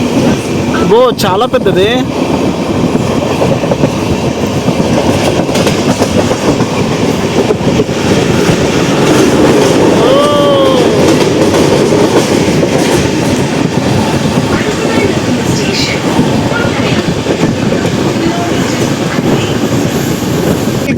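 The Amrit Bharat Express, on its Thiruvananthapuram to Hyderabad inaugural run, rolls loudly near Kottayam, with a constant rumble and rhythmic wheel clatter and squeals from the rails, and a person speaks briefly over it.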